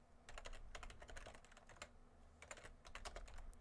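Fast typing on a computer keyboard at a workstation, bursts of crisp, close key clicks with short pauses between words, alone without any talk.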